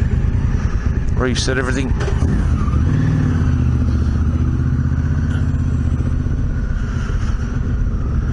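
A motorcycle engine idles and then rumbles steadily at low revs, close and continuous, while someone talks briefly over it near the start.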